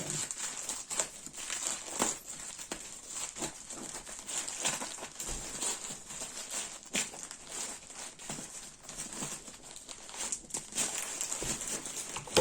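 Plastic wrapping crinkles and rustles as a soft parcel of second-hand clothes is unwrapped by hand, close and continuous with irregular crackling bursts throughout.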